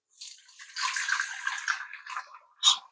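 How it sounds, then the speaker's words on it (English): Homemade Jamaican sorrel drink is poured through two strainers, giving a close, splashing stream of liquid that trickles and gurgles for a couple of seconds, followed by a brief final splash, with no voices. "I'm using 2 strainers at this time."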